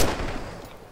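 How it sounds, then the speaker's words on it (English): Gunfire from the World War II shooter Red Orchestra 2, a loud burst of shots up close at the start and then echoing battle noise that fades over one second, with no talking. "I shot a guy."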